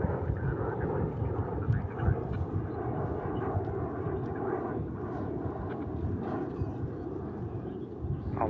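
An Emirates airliner takes off at DFW airport, a broad, steady jet roar heard from a distance that stays loud and rumbling for the whole stretch, with wind buffeting the microphone.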